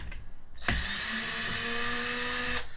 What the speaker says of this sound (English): But I'll just start unscrewing.